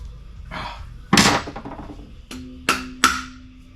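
Hammer blows strike near the rubber seal on a 1968 Mercury Monterey with a 390 engine: one soft tap, then three sharp, ringing knocks spaced about a second apart, close and loud in an otherwise quiet space.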